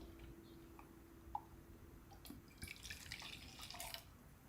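Coffee poured into a cup during a burr grinder taste comparison, heard as a soft trickle of liquid with faint drips and a brief clink, quiet and close.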